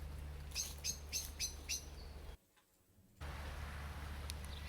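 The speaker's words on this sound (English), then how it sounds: "Some bird sounds." Several quick bird chirps in a rhythmic series over a low background hum, followed by a brief silence and then faint ambience.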